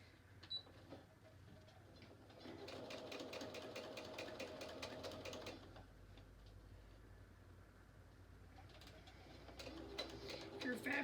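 A domestic sewing machine stitches a nine-patch quilt block, its fast rhythmic ticking run lasting a few seconds, pausing, then starting again, close and fairly quiet, with birds cooing faintly in the background.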